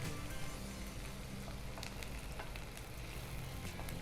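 Onions fry in a pan as the base for a fish curry gravy, giving a faint, even, dense sizzle with light crackling and no talking.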